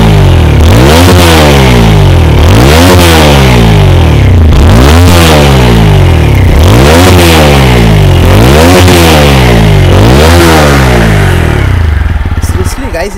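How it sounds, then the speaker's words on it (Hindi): A TVS Apache RTR 160 4V motorcycle engine revs repeatedly, about six rising-and-falling throttle blips in a steady rhythm, with a deep, bassy exhaust note, loud and close. "मैं बाइक को स्टार्ट करके एग्जॉस्ट नोट सुना देता हूँ"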